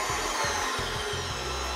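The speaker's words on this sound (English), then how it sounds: "I'm gonna put our KitchenAid on." KitchenAid stand mixer whisking eggs and sugar at speed 4, a steady close motor whir with a rhythmic repeating beat from the whisk circling the bowl.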